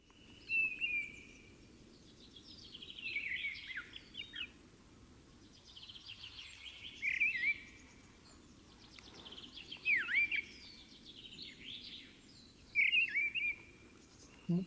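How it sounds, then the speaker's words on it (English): A missel thrush sings in short, fluting phrases separated by long pauses, each burst a few seconds apart, fairly clear against a low background rumble. "So here's the song of the missel thrush."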